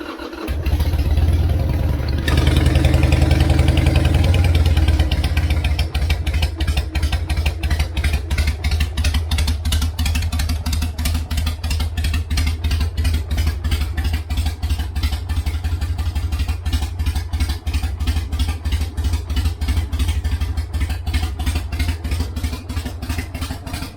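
A motorcycle engine, just back from carburetor work, cranks and catches after a couple of seconds. It then settles into a loud, steady, rhythmic idle heard up close.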